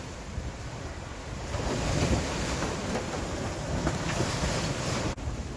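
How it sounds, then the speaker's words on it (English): Rough, steep sea waves wash and slosh against a moving sailboat under steady wind noise. A low, continuous roar runs the whole time and swells slightly partway through, with no voices. "the waves are a lot steeper than they would be otherwise"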